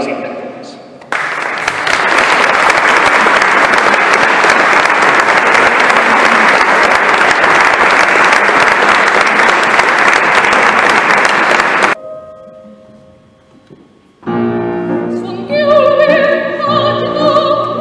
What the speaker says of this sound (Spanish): Demos un caluroso aplauso a las intérpretes.